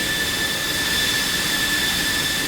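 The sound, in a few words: F-16CM jet engine running in Digital Combat Simulator video game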